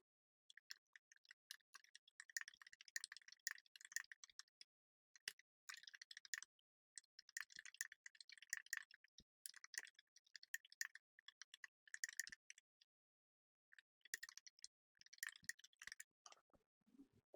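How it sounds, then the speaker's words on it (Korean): Fast, steady typing on a computer keyboard, soft close clicks in long bursts with brief pauses between them, quiet and without voices. "우선 영문 타자를 쳐보도록 할게요."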